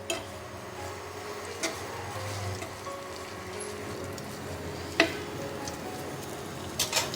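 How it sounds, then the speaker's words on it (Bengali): Cut vegetables lightly frying in a pan for a chhana dish, a low steady sizzle with a few soft stirring knocks and clinks, close and fairly quiet, with no talking. "তো একটু হালকা আমি ভেজে নেব।"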